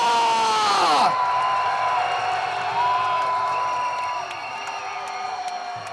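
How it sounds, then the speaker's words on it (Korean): A crowd at an outdoor protest rally in Incheon against Fukushima wastewater release, shouting and cheering loudly at the start, then a sustained roar and whistles that fade somewhat toward the end. "다시 한번 여러분의 뜨거운 함성을 부탁드립니다"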